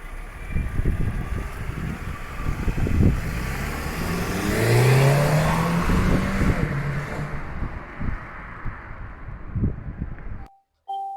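A Mercedes-Benz C300 4matic engine revs and accelerates steadily inside the car, a rising engine tone building and falling over several seconds amid some wind and cabin noise, then cutting to near silence at the end.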